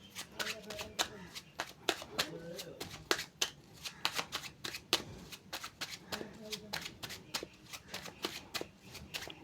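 Tarot cards are shuffled close up by hand in a steady run of soft, rapid flicks and riffles that continues without a break, fairly quiet overall.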